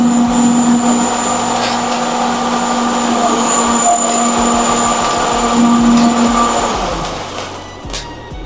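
A row of cold spark machines fires in a left-to-right sequence, producing a loud continuous roaring hiss with a steady high whine that cuts out near the end as the spray fades, with no talk over it.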